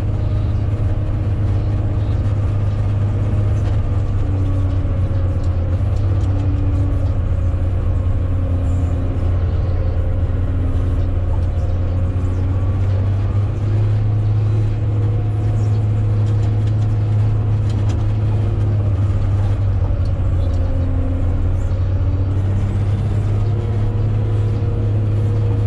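Motor grader cutting and leveling a runway escape strip at a municipal airport, its diesel engine droning steadily and loud up close, a continuous low rumble with slight load changes throughout.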